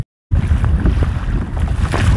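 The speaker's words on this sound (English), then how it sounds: "The wind is pretty insane." Strong wind buffets a boat on open water in the Florida Keys, a loud, steady roaring rush with gusty swells that begins abruptly after a brief silence and continues without pause.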